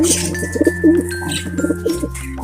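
Pigeons in a loft cooing close by, soft rolling coos repeating over a steady background hum.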